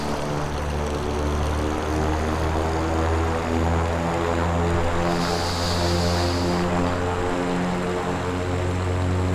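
A propeller airplane taxiing on the ground among ground crew drones loudly and steadily, a close, throbbing engine hum holding for the whole stretch, with no voices over it.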